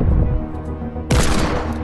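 Heavy Fortnite hand cannon gunshots, loud and close, with rumbling blasts followed by a sharp, bright shot that rings out over the game's background noise.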